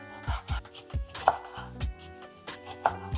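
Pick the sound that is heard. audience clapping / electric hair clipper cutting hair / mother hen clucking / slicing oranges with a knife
slicing oranges with a knife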